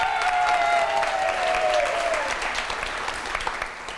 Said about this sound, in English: Applaud for Rosemary.